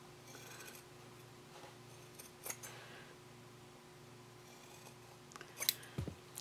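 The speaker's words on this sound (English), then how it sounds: "I just want to trim close to my stitching" Scissors trim fabric close to a sewn seam while making an origami triangle pouch: a few quiet, scattered snips and soft rubbing over a hushed room, with sharper crisp cuts clustered near the end.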